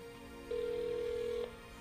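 A calling phone gives one steady electronic tone lasting about a second while the target phone sits sealed in a single-layer aluminum foil bag; the rest is quiet.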